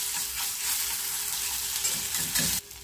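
Spiced green cabbage sizzles and crackles in a hot pan, a dense, steady frying hiss close by, with no voices.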